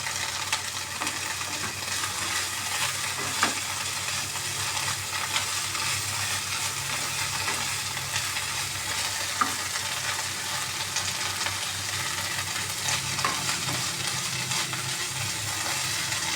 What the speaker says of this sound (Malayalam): വഴണ്ട് വന്ന ഉള്ളിയിലേക്ക് നമുക്ക് മുരിങ്ങപ്പൂവും മുരിങ്ങയിലയും കൂടെ ഇട്ട് നന്നായിട്ടൊന്ന് ഇളക്കാം.